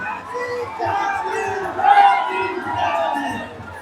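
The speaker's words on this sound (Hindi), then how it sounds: "जय भीम के नारों से जंतर मंतर पर की आवाजें पटी हुई हैं" A large crowd at Jantar Mantar raises loud rhythmic Jai Bhim slogans, many voices shouting together in swelling chant bursts, dense and close.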